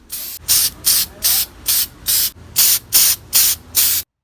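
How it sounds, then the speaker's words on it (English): Home Right Super Finish Max paint sprayer spraying paint on an antique dresser, nine short, loud, evenly spaced hissing bursts in a steady on-off rhythm, up close with no talking. "Today I'm using the Home Right Super Finish Max paint sprayer."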